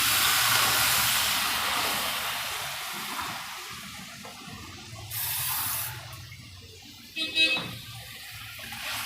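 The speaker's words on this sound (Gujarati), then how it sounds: "હવે આપણે એમાં પાણી નાખીએ" Water hits a pan of roasted spice masala for a paneer corn curry with a loud, steady hiss of steam that slowly fades, with a few brief clinks and sizzling bursts near the end.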